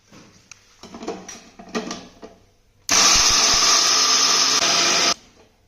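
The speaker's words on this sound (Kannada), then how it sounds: "ಕಾಯಿನ ಮಿಕ್ಸಿ ಮಾಡ್ಕೊಳ್ಳೋಣ." A kitchen mixer grinder blends coconut, cashews and poppy seeds into a paste for bottle gourd kurma: after some clattering and handling, the motor roars loud and steady for about two seconds, then stops.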